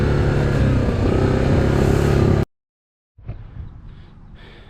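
A 2024 Yamaha Grizzly SE ATV engine runs loud and close on a test ride for about two seconds, then cuts out abruptly, followed after a brief silence by fainter rumbling noise.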